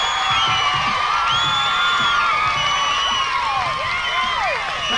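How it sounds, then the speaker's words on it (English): Large outdoor crowd at the 1987 BBC Radio 1 Roadshow in Plymouth cheering, whooping and screaming continuously, loud and dense with high-pitched shrieks throughout. "I want you to give the best round of applause from Plymouth in your life."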